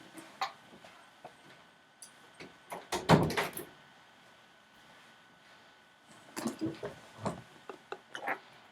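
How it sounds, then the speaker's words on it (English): A door is pushed shut with a loud thump and rattle, followed by scattered knocks and small handling noises nearby. "I'm gonna shut my door real quick."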